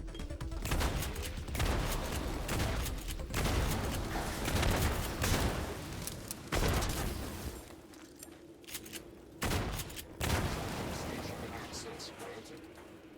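Shotgun blasts in the System Shock Remake video game, several heavy booming shots spaced a second or two apart over a dense game soundscape, with a voice talking in between.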